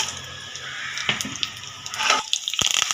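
Whole spices for tempering (cumin, pepper, fennel, star anise, cinnamon, cardamom, cloves, bay leaf) crackle and sizzle in hot oil for paneer fried rice, with a steady close hiss and sharp pops toward the end.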